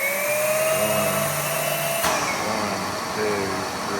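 An EGO cordless vacuum cleaner whines steadily at close range on its turbo setting, its motor tone shifting and dipping briefly partway through before settling back to a continuous loud hum.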